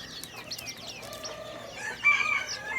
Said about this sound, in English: Here we have chicks galore.